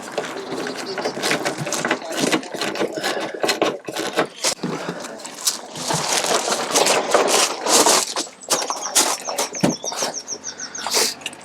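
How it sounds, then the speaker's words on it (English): Screws being driven into the bumper of a crash-damaged Porsche Cayman, with busy clicking, whirring and rattling bursts up close, mixed with handling noise and brief talk. "So I think that should enable me now to get these screws in."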